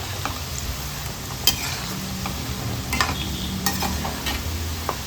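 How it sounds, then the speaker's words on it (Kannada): Kodubale dough rings deep fry in oil, making a steady bubbling sizzle close by, broken by a few light clinks and stirring scrapes. "ಚೆನ್ನಾಗಿ ಮಿಕ್ಸ್ ಮಾಡ್ತಾ ಫ್ರೈ ಮಾಡ್ಕೊಳ್ಬೇಕು."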